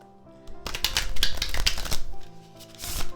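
A Northern Animal Tarot card deck is riffled and shuffled by hand, giving a quick run of crisp, papery flutters and snaps that lasts a couple of seconds, close up, with no talking.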